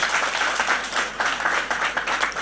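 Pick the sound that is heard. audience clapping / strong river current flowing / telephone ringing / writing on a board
audience clapping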